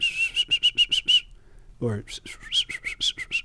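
A man whistles an imitation of birdsong, a song sparrow, in quick rhythmic bursts, then pauses for a brief low spoken word before another run of rapid whistled notes, close and clear.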